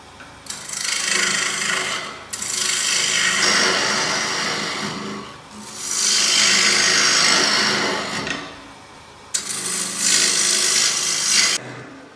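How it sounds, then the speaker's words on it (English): A gouge carving out the inside of a wooden bowl on a woodturning lathe: loud, steady, rasping cuts in three long passes separated by brief pauses, close by, with no talking. "we can carve out the inside of that bowl using the same gouge"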